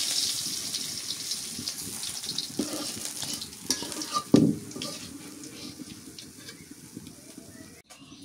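Fish frying in a pan during village home cooking, a soft steady sizzle with occasional stirring and a clatter as pieces are lifted out, close by.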